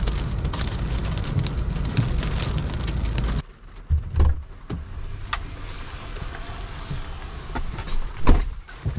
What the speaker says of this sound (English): I had to run back to the car in this hailstorm